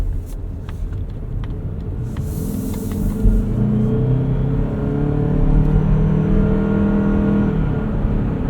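A 2025 Mazda CX-50 Hybrid accelerates, its engine and drivetrain heard from inside the cabin as a steady, rising hum and rumble with road noise underneath, without talk.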